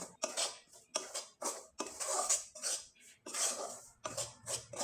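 Rice flour is being lightly roasted in a pan for pitha and stirred in rhythmic strokes, each stroke a close, dry scrape and rustle separated by short pauses, with no talk.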